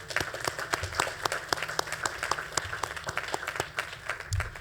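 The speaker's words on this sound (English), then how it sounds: "give yourselves a round of applause." Audience applauding at a university engineering award ceremony, a dense run of clapping from a large crowd held steady for several seconds, with a faint voice underneath.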